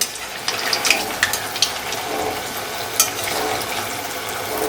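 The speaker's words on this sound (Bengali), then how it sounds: "এখানটা কিন্তু ফ্রাই হচ্ছে আস্তে আস্তে" Malpua batter frying slowly in hot oil, giving a continuous bright sizzling hiss scattered with small crackles and pops, close and steady with no talking.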